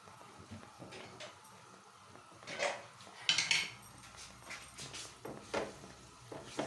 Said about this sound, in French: Vous mélangez, bon, à l'aide d'une grande cuillère bien sûr.